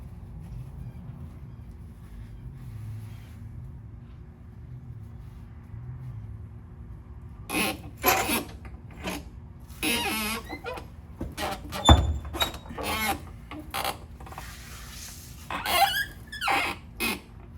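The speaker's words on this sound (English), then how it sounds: "Squeaky old creeper, ain't it?" Quiet rumble at first, then a series of sharp squeaks and creaks from a rolling creeper, irregular and close, with small knocks between.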